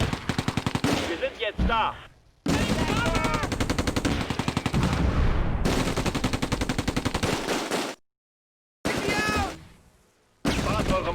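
Sustained machine gun fire in the Close Combat: A Bridge Too Far war game, loud rapid rattling bursts broken by sudden silent gaps, with a voice shouting over the gunfire.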